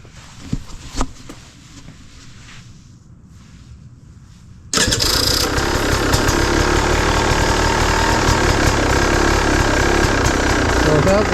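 A motorcycle is quiet at first with a few small clicks, then its engine starts abruptly and settles into a loud, steady, close running drone with a rough, busy texture.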